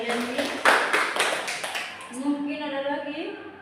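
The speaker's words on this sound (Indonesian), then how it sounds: "kita tepuk tangan untuk Yani" Children clap for a classmate in a steady burst of quick, rhythmic claps during a school class, then the clapping fades as young voices carry on.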